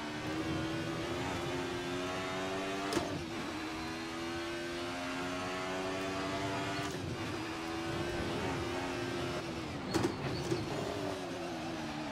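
A race car engine in Assetto Corsa revving hard and briefly over-revving, a sustained high whine with abrupt shift cuts and pitch dips, loud and steady without any talking.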